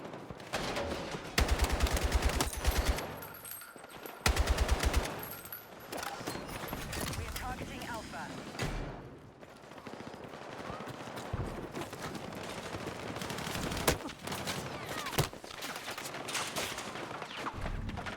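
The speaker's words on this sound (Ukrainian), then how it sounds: "Стріляють." Bursts of rapid gunfire and scattered shots crackle through a busy Battlefield 6 match on the New Sobek City map, with voices talking over the action.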